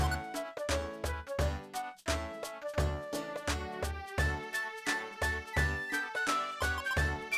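Save-game jingle from the video game Pokémon Mystery Dungeon: Explorers of Sky, a bright, bouncy chiptune-style melody with regular rhythmic notes and percussion beats, playing alone and clear.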